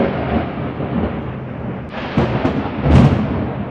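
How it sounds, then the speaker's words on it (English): Low, rolling thunder from a night lightning storm rumbles steadily, with a louder crack and swell near the end over a constant wash of rain-like noise. "the lightning is striking with increasing rapidity"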